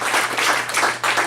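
An audience applauds, a brief dense burst of many hands clapping at close range with no voices over it.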